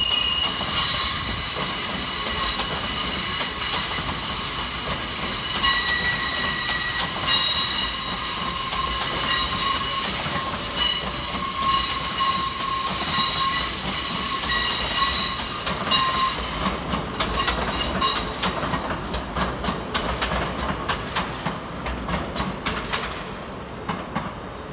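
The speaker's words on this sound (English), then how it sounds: "Over on the far side sees the departure of 800 313, working the 1631 Great Western Railway service to Cheltenham Spa." GWR Class 800 number 800 313 pulls out of London Paddington on a Great Western Railway service to Cheltenham Spa, a loud sustained engine roar with high squealing wheels and a brief horn, fading with rhythmic clatter toward the end.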